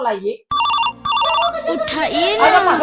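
A telephone rings with two bursts of a bright electronic ring tone, close and loud, followed by a person speaking over it as the call is answered.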